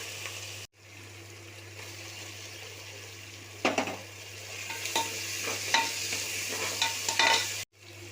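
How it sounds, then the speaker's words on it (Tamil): Tomatoes being sautéed with ginger garlic paste for Dindigul mutton biryani, with a low sizzle, a steady hum underneath and a few louder stirring scrapes in the second half. "இதோட தக்காளி சேர்த்துக்கலாம்."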